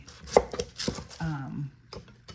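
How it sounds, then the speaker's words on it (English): A knife chops an onion on a board, several quick close thuds in a short burst, followed by a brief muffled scrape and a couple of lighter taps. "I'm actually gonna be cutting up some onion"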